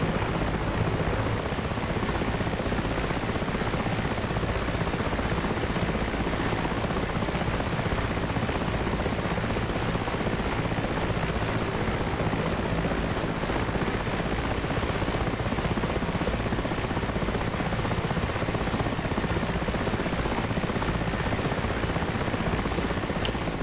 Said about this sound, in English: I definitely wouldn't have flown this helicopter in these conditions in real life